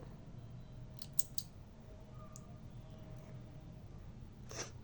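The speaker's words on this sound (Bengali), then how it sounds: "সুতাটা বাড়তি করে নিয়ে কেটে দিচ্ছি" Scissors cut crochet yarn during a color change, a couple of quick close snips followed by another soft snip, faint against a quiet room.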